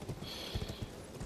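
Horse hooves clip-clopping in the video game Elden Ring, a steady series of close thuds at a trotting rhythm against a continuous background hiss, with no talk.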